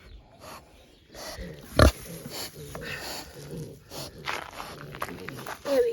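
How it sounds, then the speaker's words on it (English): Piglets on an off-grid homestead grunt and snuffle close by in short irregular bursts, with one louder grunt near the start and faint rustling movement between them. "I do like to come and sit here with piglets"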